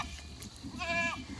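A goat on a farm gives a single short wavering bleat near the end, heard close but soft over faint rustling background noise.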